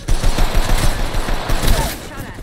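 Apex Legends weapons fire in a dense, loud burst of overlapping rapid gunshots, near and continuous for a couple of seconds.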